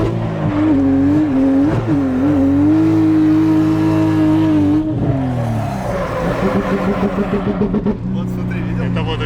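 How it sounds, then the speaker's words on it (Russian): A Toyota Supra with an aftermarket exhaust idling and revving unevenly as it misfires, a loud, close engine note that wavers and stutters, with people talking over it. "Это вот она троит"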